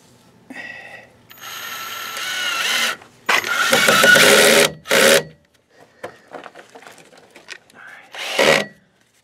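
Screws being driven into floor support jacks beneath a house, heard as several loud, rattling, ratchet-like bursts of a power driver separated by pauses, with someone talking in between.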